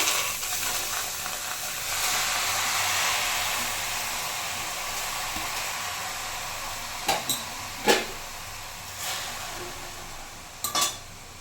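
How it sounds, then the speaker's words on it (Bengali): Chopped cucumber tipped into a hot wok on a gas flame, giving a steady hissing sizzle that slowly fades, followed by a few sharp clinks and scrapes of a utensil against the pan. "এরপর এই কুচনা শসাটা আমি কড়াইয়ে দিয়ে দেবো।"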